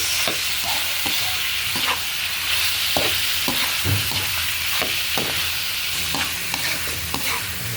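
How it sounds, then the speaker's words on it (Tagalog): Pork rendering its fat in a pot with peppercorns, a steady loud sizzle and fry punctuated by regular scraping stirs of a utensil against the pot, close and continuous without voices. "Palabasin lang natin ng konti ang kanyang mantika."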